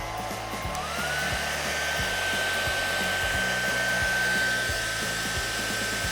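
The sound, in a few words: hairdryer blowing air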